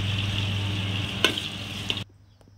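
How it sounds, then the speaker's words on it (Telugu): Snakehead fish curry sizzling steadily in a pan as ginger is stirred in, a constant hiss with a couple of sharp scraping clinks, then the frying cuts off abruptly near the end. "అల్లం వేసుకుందాం, మంచిగా కలిపి"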